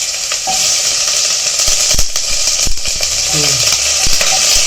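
Onions sautéing in a pan for a vegetable dish give a steady, close sizzle with scraping stirs and a few sharp knocks of utensil on metal, and faint brief voices drift in the background.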